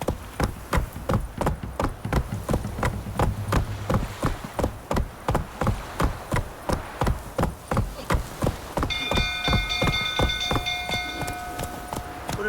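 Steady clip-clop of horse hooves in The Witcher 3 video game in an even trotting rhythm, loud and close, with faint chiming tones joining near the end.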